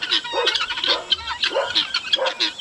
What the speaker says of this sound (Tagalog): Ang ingay po na ating mga bingala, oh.